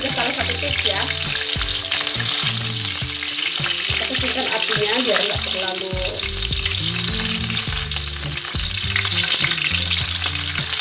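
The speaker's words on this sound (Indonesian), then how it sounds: "Yang pertama saya mau masukkan serai dan jahe yang saya akan tumis duluan." Lemongrass and ginger sizzle in hot oil in a pan, a steady dense crackle of frying broken by repeated scraping stirs of the utensil, close and continuous with no talking.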